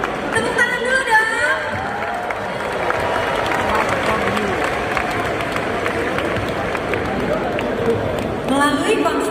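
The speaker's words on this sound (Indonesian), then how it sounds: "Tepuk tangan dulu dong." A concert crowd at an anniversary show applauds and cheers, with dense clapping and shouts throughout, while a voice talks over the crowd at the start and end.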